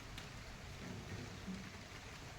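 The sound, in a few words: rain falling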